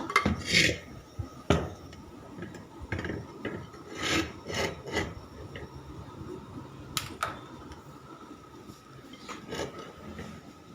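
Half a kilo of washed clams tumbling into a pan on the stove, giving a run of close clattering, scraping knocks in short irregular bursts against a quiet kitchen background.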